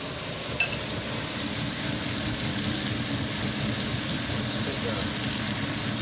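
Foie gras sears in a hot pan, giving off a steady, dense sizzle of rendering fat that holds even and close for the whole stretch, with no talk over it.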